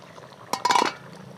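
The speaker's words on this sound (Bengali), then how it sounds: "আমি এবার ঢাকনা খুলে নেব।" A lid lifts off a cooking pan of gondhoraj lemon fish, a short clatter of metal followed by a brief bright clink and faint sizzle against a quiet kitchen background.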